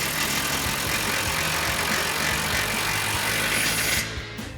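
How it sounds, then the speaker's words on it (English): A ratchet with an 18mm socket and swivel adapter tightens the upper ball joint nut on a 2015-2025 Ford F-150 front suspension fitted with Eibach coil-overs, giving a fast continuous clicking that stops just before the end. "Now we can tighten back down our upper ball joint nut. Again with our 18mm socket and swivel adapter."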